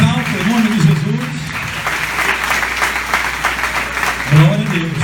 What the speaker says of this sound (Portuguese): Vamos aplaudindo mais alto em nome de Jesus.